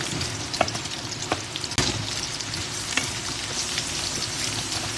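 Food fries in a pan with a continuous close sizzle and crackle, punctuated by a few sharp pops and a clack of a utensil stirring partway through, with no voices.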